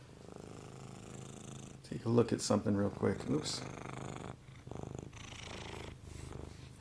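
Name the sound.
cat purring and rubbing on the camera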